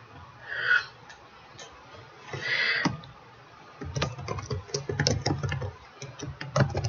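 Rapid, irregular clicking of computer keyboard keys comes in bursts, close and fairly loud, with a few quieter taps and faint breathing in between.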